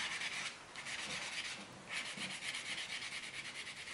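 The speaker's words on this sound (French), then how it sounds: "on finit avec un petit polissoir un petit peu plus doux" A soft nail buffer polishing an artificial nail tip during a French manicure, close rasping back-and-forth strokes in two or three sweeps, fairly quiet and with no talking.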